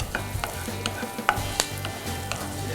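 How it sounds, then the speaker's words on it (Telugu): Finely chopped ginger and curry leaves in a tempering, frying in a pan for breakfast pongal, with a soft sizzle and several sharp scraping knocks as the spoon stirs, close and steady, no voices. "ఇప్పుడు సన్నగా తరుముకున్న జింజర్ని కూడా వేసేసుకుందాం తాలింపుని మాడనివ్వకుండా కలిపేసుకుందాం"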